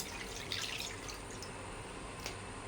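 Water is poured from a container into a kadai wok on the stove while cooking a pointed gourd and egg dish, a faint, steady trickling and splashing with a slightly louder spill near the end.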